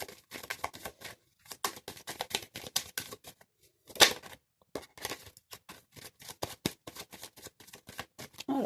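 Tarot cards are spread out and drawn one by one on a table, making close, crisp shuffling and sliding clicks in irregular bursts with short silent gaps.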